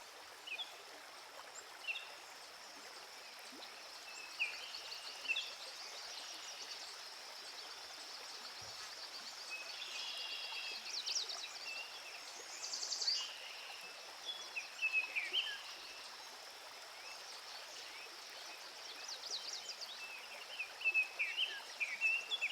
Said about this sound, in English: In the distance, try to listen for the sounds of birds.